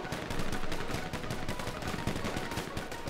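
Rapid bursts of automatic gunfire rattle almost continuously in a GTA 5 Online adversary match, dense and close, with overlapping shots and little pause across the short stretch.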